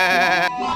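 A cartoon goat gives a short bleat, a buzzy, wavering voiced cry lasting under half a second that stops abruptly, followed by a faint low tail.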